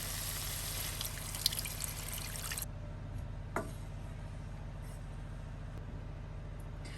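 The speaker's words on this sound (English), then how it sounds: "And now we're gonna add a cup of water." Water pours in a steady hissing stream for a couple of seconds, then stops, leaving a quiet low hum with a few faint drips and clicks.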